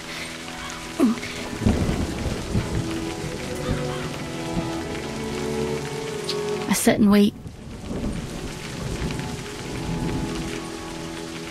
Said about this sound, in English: And eventually the storm blows itself out.